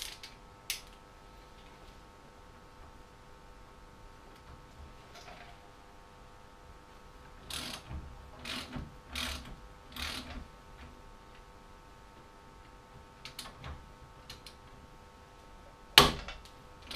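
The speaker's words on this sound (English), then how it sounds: "Next job is to remove the two bolts holding the caliper on." Ratchet or hand tool working on the size 8 Allen head bolts holding a brake caliper on a Lotus Elise S2, giving a few sharp clicks and a burst of rapid ratcheting strokes over a quiet, steady background hum.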